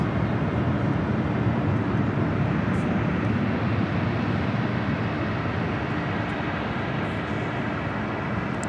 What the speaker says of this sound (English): We'll be following United Airlines Flight 152 heading to Hong Kong on a 787-9 Dreamliner now rolling down.